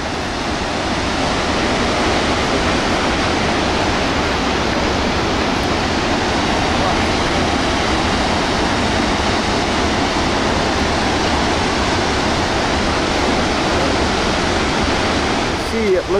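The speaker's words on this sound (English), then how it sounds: "One of the biggest waterfalls in Iceland." Large waterfall in Iceland, a steady broadband roar of crashing water that stays loud and unchanging throughout.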